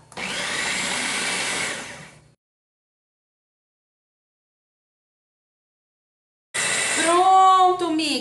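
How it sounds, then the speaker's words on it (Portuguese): A food processor whirs through potato purée in two bursts, a steady loud grinding run, a pause of silence, then a second run with rising and falling motor pitch as the blades work the mash. "Vou ligar meu multiprocessador para nós terminar."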